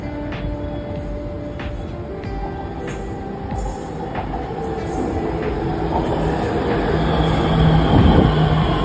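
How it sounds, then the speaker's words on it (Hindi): BTS Skytrain passing in Bangkok: a loud, continuous rumble of an elevated train with rhythmic wheel clicks and high squeal, swelling as it draws nearer toward the end. "BTS स्काई ट्रेन केवल एक सफ़र नहीं बल्कि एक एक्सपीरियंस है"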